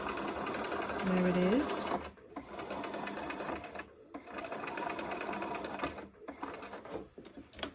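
Sewing machine stitching a second gathering row along a dress, a steady close whir in runs broken by brief stops, with someone speaking briefly near the start.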